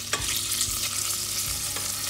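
Lardons fry in sunflower oil in a pan, giving a steady, close, dense sizzle with occasional soft stirring scrapes and no talking.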